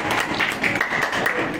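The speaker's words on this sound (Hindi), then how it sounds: "तालियां बजती रहनी चाहिए।" A crowd claps steadily at a Parshuram Jayanti music gathering at Baba Mahendra Nath Dham, a brief, dense wash of applause with no single claps standing out.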